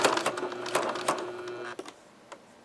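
A sewing machine stitches fabric for a simple pencil bag in quick mechanical bursts, close and clear, stopping and restarting with a few short clicks at the end.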